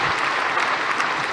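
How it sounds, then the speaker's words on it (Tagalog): A brief burst of crowd applause at a Filipino speech event, with many hands clapping in a dense, fairly loud wash. "Palakpak mga idol!"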